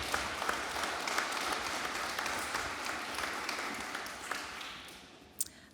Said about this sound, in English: You can give the candidates a round of applause